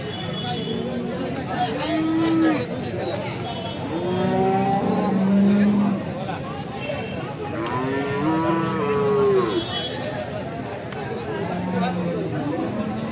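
Cows at a cattle market in Alephata moo repeatedly in long drawn-out calls, several overlapping one another, while people talk and chatter continues around them.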